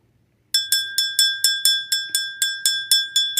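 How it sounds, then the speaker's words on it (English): A hand bell rings about a dozen times in a quick, even rhythm: bright, close, metallic strikes, each decaying before the next, with no talking over it. "Let me ring this bell first."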